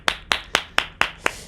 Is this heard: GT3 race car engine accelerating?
no